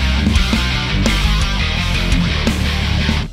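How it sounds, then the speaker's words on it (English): Distorted electric guitar riff mixing palm-muted chugs between ringing open notes, loud and steady with rhythmic accents, playing alone with no voices. "All we're gonna do is insert a bunch of palm muted notes in between the notes that we've already got."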